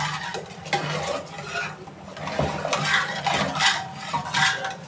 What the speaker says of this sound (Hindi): इसको अच्छे से मिक्स कर देंगे और इसको तेल में भून कर भी डाल सकते हैं मसाले को